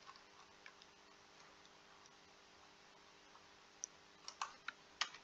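Someone types faintly on a computer keyboard. Sparse quiet clicks build into a short, sharper burst of keystrokes near the end.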